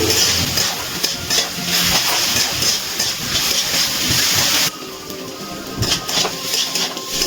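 Spices sizzle and hiss in a hot pan while being stirred together with Kashmiri chilli powder and salt, a loud continuous frying noise with scraping strokes, dropping slightly quieter partway through.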